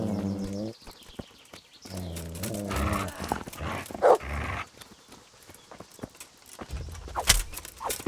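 Mutt, the dog companion in the medieval game Kingdom Come: Deliverance, barks in a few separate bursts amid clip-clopping hooves and other game sounds, close and moderately loud.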